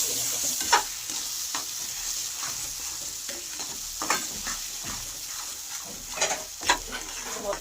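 A spoon or spatula mixes peas with salt and turmeric in a hot pan, giving repeated scraping strokes over a soft, steady sizzle. The sound is close and the strokes are fairly even.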